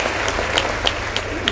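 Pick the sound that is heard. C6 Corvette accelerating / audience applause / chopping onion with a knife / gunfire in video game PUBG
audience applause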